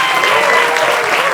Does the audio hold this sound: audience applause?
yes